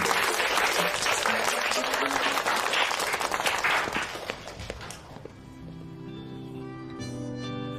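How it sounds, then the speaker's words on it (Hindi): Loud applause from a crowd fills the first five seconds with dense clapping, then drops away as soft music takes over. "एक बार जोरदार तालियां उसके लिए।"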